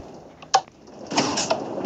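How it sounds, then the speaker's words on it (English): Doors of a Line 1 train slide shut before departure: a quick thump, then a short whooshing slide and a soft close, fairly near. "The train is about to depart. Please stand clear of the train doors."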